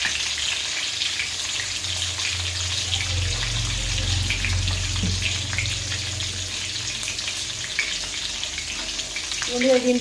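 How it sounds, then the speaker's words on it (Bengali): Eggs fry in hot oil with a steady, loud sizzle and crackle, joined by scraping and stirring and some watery running sounds, with no talking. "দিয়ে আমি ডিমগুলোকে লাল লাল করে ভেজে নেব।"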